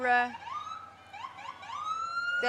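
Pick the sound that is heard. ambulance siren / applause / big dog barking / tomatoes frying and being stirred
ambulance siren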